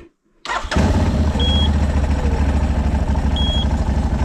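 A quad bike engine cranks and catches after a moment of quiet, then settles into a loud, steady, rumbling idle close by.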